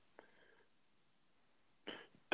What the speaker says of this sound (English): for clearing my throat in your conversation